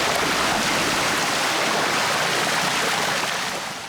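Water from hoses pours into an old Austin Princess car, a loud, steady, close rushing roar of heavy flow that continues unbroken throughout, then eases slightly toward the end.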